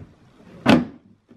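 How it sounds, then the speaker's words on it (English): A car door shuts with a single solid thump, close and fairly loud, on a Christmas Day test drive with a child's new car; quiet background before and a faint knock after. "Yeah, you close that door."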